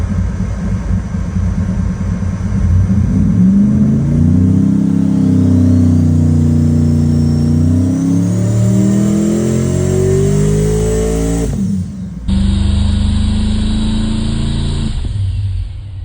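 A twin-turbo LS engine making over 2,000 horsepower on an engine dyno revs loud and close, its pitch climbing through a long pull before cutting off abruptly, then resuming at a steady roar with a high turbo whine.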